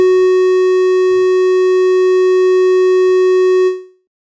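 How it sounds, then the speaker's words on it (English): A small alarm siren gives a steady, loud, pure electronic tone that holds level for nearly four seconds, then cuts off abruptly, with faint handling noise at the start. "So I have this siren here."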